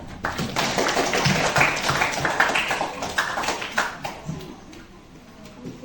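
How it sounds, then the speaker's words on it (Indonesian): A classroom of students applauding all the groups after a lesson, many hands clapping close and lively with uneven rhythm, fading toward the end amid a few murmured voices. "Tepuk tangan untuk semua kelompok."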